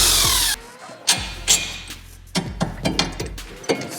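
A ratchet wrench works loose two factory bolts on a vehicle's drop links, giving a burst of rapid ratcheting followed by a series of sharp metallic clicks and clanks, close and fairly loud.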